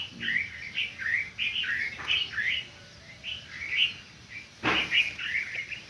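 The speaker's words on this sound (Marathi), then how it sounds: "पक्षी उठलेली आहे" Morning birdsong at sunrise: several birds chirp and trill in quick overlapping phrases throughout. The calls are fairly close and clear over a soft outdoor background, with no talking.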